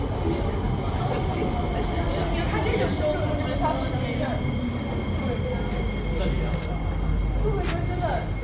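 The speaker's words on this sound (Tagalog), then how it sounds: "nandito na yung tren na napakabilis" A fast train rumbles loudly close by with rail noise and faint wheel squeals as it pulls in, people talking under the roar.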